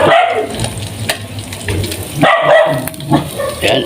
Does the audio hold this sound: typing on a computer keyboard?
no